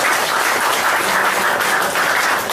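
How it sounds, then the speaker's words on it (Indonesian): A crowd gathered for Cak Nun applauds loudly and steadily, a thick unbroken wash of clapping filling the whole moment with no voices on top. "Kalau boleh kita tepuk tangan kembali untuk Cak Nun."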